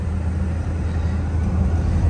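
A supercharged 2006 Dodge Charger SRT8 under light throttle on a street: a close, steady, deep engine rumble that stays even for a couple of seconds.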